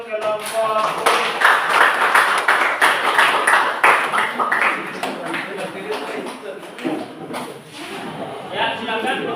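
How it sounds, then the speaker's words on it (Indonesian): An audience at a university classroom presentation claps for a group, brisk overlapping hand claps for several seconds that fade out near the end. Voices speak over the clapping. "beri aplaus untuk kelompok"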